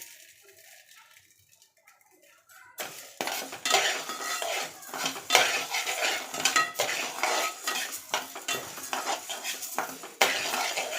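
Spoon scraping and stirring urad dal and horse gram as they dry-roast in a metal pan, a steady clatter of dense clinks and scrapes close up, following a few quiet seconds.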